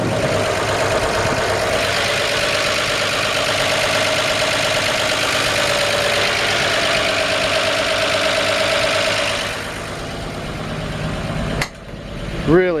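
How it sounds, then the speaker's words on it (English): Original six-cylinder engine of a 1956 Chevrolet 3100 pickup idling steadily with a fast, even ticking from its solid lifters, running close and loud for about nine seconds before dropping away, followed by a brief knock near the end. "Really good, healthy sounding. Of course, you hear those solid lifters."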